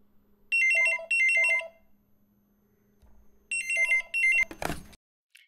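A telephone rings in paired bursts, two trilling rings, a pause, then two more, clear and close, ending as the handset is picked up with a clatter.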